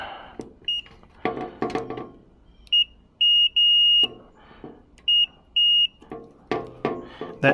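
A continuity tester gives several sharp electronic beeps, short chirps and longer steady tones, between rustling handling noises and faint background sounds.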